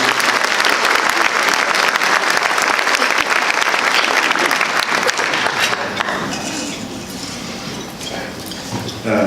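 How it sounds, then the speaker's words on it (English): Steady, loud audience applause fills the room at a chamber of commerce annual luncheon, sustained for several seconds before gradually thinning out. "Let's give them a round of applause."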